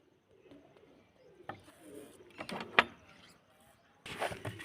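Young pet pigeons coo softly nearby in a home loft at feeding time, their low murmurs mixed with scattered clicks, rustling and a brief burst of clatter near the end.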